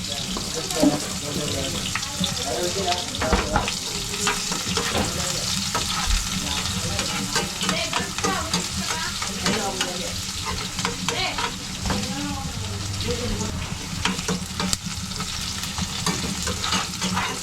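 Garlic sizzling in hot oil in a pan while being stirred, a loud continuous frying crackle with scraping stir sounds and faint voices in the background.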